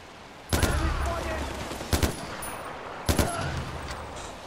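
Three gunshots ring out in the video game Far Cry 4, each a sharp report spaced over a second apart, set against a steady low ambient rumble of the game world, fairly close and distinct.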